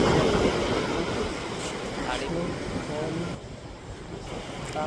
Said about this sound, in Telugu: అలలు అయితే ఒక లెవెల్ వస్తున్నాయి